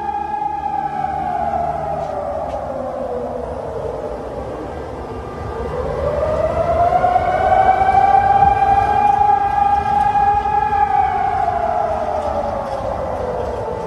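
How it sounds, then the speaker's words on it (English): Air raid sirens wailing over the city of Kharkiv during wartime attacks, a steady rising and falling tone that swells louder midway and holds, continuous for the whole stretch with no talking. "what I saw in Kiev today, in Kharkiv, there were sirens playing."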